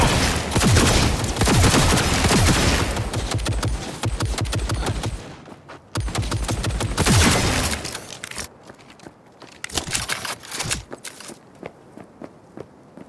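Rapid automatic gunfire and bursts of shots in a Cyberpunk 2077 shootout, loud and dense for several seconds, dropping out briefly, then returning before thinning to scattered shots and thuds.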